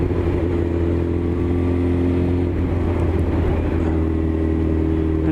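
Honda SP1 Blade motorcycle engine cruising in sixth gear at about 2,500 rpm, a steady low even drone with constant loudness, heard close from the rider's position and joined by wind rush.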